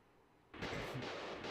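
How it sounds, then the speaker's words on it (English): A dragon cannon fires in the video game Lunar 2 Eternal Blue, one sudden booming blast followed by a sustained roaring rumble, loud and close with no talk. "Dragon cannon, fire!"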